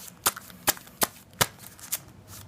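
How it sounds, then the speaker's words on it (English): A deck of trading cards is riffled and shuffled in five or six sharp, evenly spaced bursts, close and fairly loud with no talking. "Let's do a shuffle."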